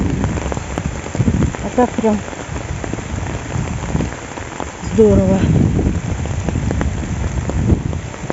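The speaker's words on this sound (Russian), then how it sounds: "Ну и пусть что дождь." Rain falls on an autumn day in Moscow in strong wind, a close, continuous patter and hiss on surfaces, with someone briefly talking over it.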